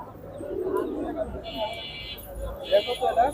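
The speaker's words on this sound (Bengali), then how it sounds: "অনেক সুন্দর সুন্দর কবুতর রয়েছে এখানে" Pigeons coo softly with a few chirps mixed in at a busy pigeon market in Kaptan Bazar, Dhaka, as people talk nearby.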